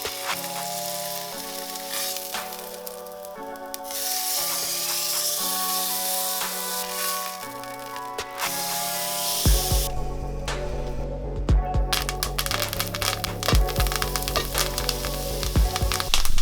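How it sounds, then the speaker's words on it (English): French fries frying in hot oil for steak and chips, a steady loud hiss that jumps into a louder, crackling boil partway through as more potatoes go into the oil. "add your French fries back into the oil at a higher temperature to fry them at the same time"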